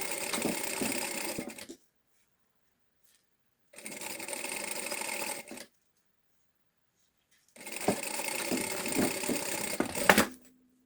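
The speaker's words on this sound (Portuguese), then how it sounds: "vamos passar uma costura sobre a dobrinha" A sewing machine runs three separate bursts, stitching a seam right on the crease of a fold in a mother-and-daughter bag project; each run is steady and close, with short silent pauses between them.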